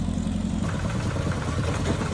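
A small tractor engine runs steadily during farm land preparation, a continuous low rumbling drone, fairly loud and close, with no talk.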